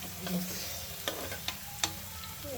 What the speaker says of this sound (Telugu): ఏం వండలే కదా అని ఎగ్ ఫ్రై చేస్తున్నాం